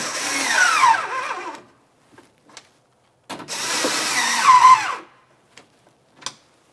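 Two bursts from a power tool snugging up two 10mm mounting nuts on a 2000-2006 Chevrolet Tahoe liftgate handle, each a whirring rattle lasting about a second and a half, with small clicks and taps between them.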